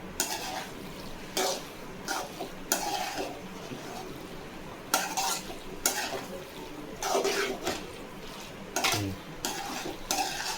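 A utensil stirs and mixes cooked pasta with a little butter in a pan, giving repeated scraping and clattering strokes over a soft sizzle, at close range in a home kitchen.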